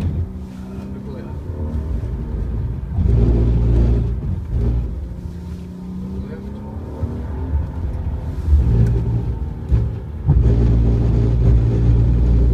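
A BMW at a performance-driving skidpad accelerates hard with the throttle floored, its engine rumbling and rising in steady surges over about twelve seconds, close and loud, with an instructor talking over it.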